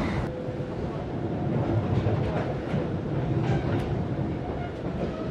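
Steady rumble and rattle inside a moving Joglosemarkerto passenger train between Semarang and Yogyakarta, a continuous close cabin drone with faint clicks and knocks throughout.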